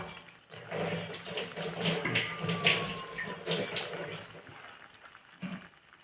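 Tap water runs steadily while hands are washed, a continuous close splashing hiss that swells and fades over several seconds.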